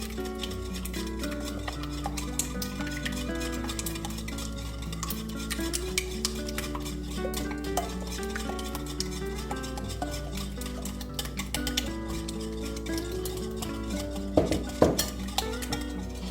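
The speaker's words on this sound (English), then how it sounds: "You keep stirring until it gets to your desired consistency" Aloe vera and flaxseed conditioner mixture, still hot, being stirred steadily while liquid is added, giving soft repeated scraping and light clinking under continuous background music.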